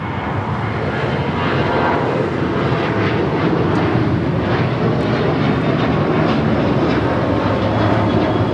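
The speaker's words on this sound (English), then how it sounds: "This is Alaska Airlines 127 taking off to Seattle on the 737-800." An Alaska Airlines Boeing 737-800 takes off from LAX bound for Seattle, a loud, continuous, broad jet roar that stays steady and close throughout.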